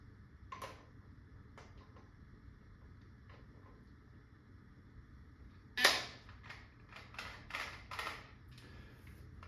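Valken M17 paintball launcher firing on CO2 at about 800 PSI, a handful of sharp pops with the loudest burst mid-clip followed by a quick irregular string of shots, over faint background hiss.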